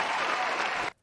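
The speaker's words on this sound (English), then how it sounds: "Round of applause for you," A brief canned applause sound effect, triggered by a button during a livestream while painting a Warhammer Fantasy orc warrior, gives a burst of dense clapping that cuts off abruptly just before the end.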